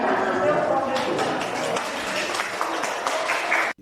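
Spectators applaud a mayor as he gets vaccinated, a steady wash of clapping under a reporter's voice, cutting off abruptly at the end.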